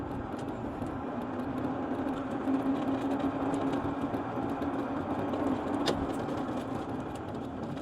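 A Vatrer 48V 105Ah lithium-battery golf cart driving down a road, giving a steady, even hum and road rumble throughout with a faint whine, moderately loud and close, with no talking.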